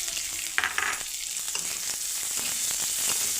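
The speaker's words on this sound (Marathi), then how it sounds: "आपण त्याच्यामध्ये कांदा घालू." Onion sizzling as it drops into hot oil with garlic, a steady bright frying hiss close by, with a few sharp clatters as it is stirred.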